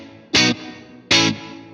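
Two bursts of effected electric guitar through an Alexander Space Force reverb pedal, each a loud, bright strum that ends abruptly and leaves a low, lingering reverb wash beneath it.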